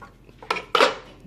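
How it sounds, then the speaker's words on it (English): Small aluminum loaf pans clanking in a kitchen: two quick metallic knocks, close and fairly faint, with no talk. "I'm using these little loaf pans"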